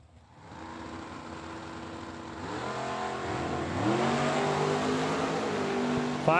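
Drag racing cars, an Oldsmobile and a GTX, launching side by side at a Super Pro race: engines rise from idle into loud, climbing revs in stepped gear changes, building in loudness as they pull away.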